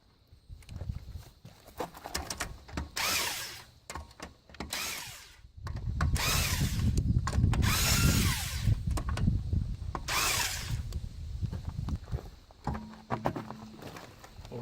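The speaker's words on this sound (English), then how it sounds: "we can go ahead and finish removing the lug nuts and remove the wheel" A power tool zips off the rear wheel lug nuts on a Subaru, short whirring bursts and one longer rattling run, close by, with clinks of metal between bursts.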